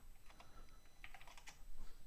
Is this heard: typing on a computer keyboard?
yes